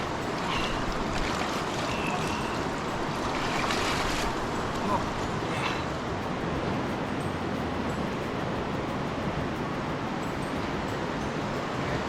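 River water rushes steadily and loudly as a rafting group goes by, a dense continuous roar of churning water with faint voices and splashes mixed in.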